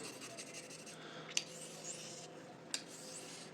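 Quiet, continuous scraping of a steel blade drawn over a Washita Arkansas whetstone, an even rasping stroke with two sharp little ticks along the way and no talking.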